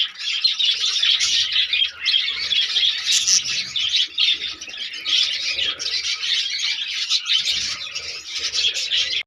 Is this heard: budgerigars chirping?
yes